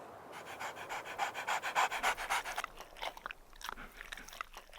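A dog panting indoors, rapid rhythmic breaths close to the listener that fade into softer, irregular breathing and mouth sounds, with no voices.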